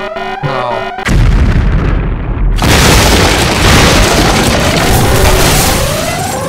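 A bomb explodes in a staged war skit with a machine gun: a sudden broadband boom, then a second blast that settles into a long, loud roaring rumble filling the rest of the clip.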